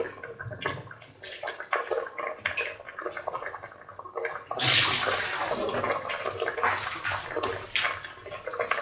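Water, 1.5 cups, poured in a steady rushing stream into a cooking pot of soaked rice, close and loud, after a few seconds of light clattering.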